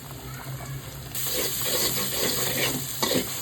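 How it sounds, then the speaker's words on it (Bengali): Onions frying in oil in a pan for a rice dish, a steady crackling sizzle that grows louder partway through as they are stirred, with no one speaking. "ভাতের জন্য যে পেঁয়াজ ভেজে নেওয়া হচ্ছে"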